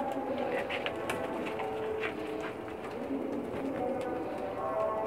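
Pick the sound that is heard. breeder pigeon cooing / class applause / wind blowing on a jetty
breeder pigeon cooing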